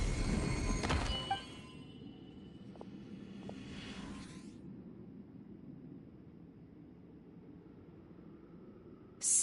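A sliding door opening in Genshin Impact: a bright mechanical whoosh and clank up front, a sustained airy slide fading out, then a short sharp click at the end.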